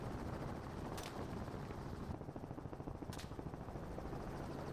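Helicopter flying during a wild pig hunt in Australia, its rotor and engine forming a dense, continuous loud drone with steady low-end chopping throughout, and no voices.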